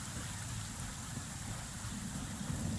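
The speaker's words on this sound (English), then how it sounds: "I do like the rain sound, it's very soothing." Steady soft rain patters and hisses without a break at low volume through Mondstadt in the video game Genshin Impact, with no voices.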